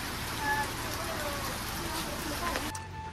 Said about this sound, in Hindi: यहाँ पर तगड़ी बारिश हो रही है